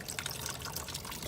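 Coolant pours from the bottom radiator hose of a 1996 Toyota Camry, a continuous splashing, gurgling stream of liquid landing close by, steady throughout and without talk.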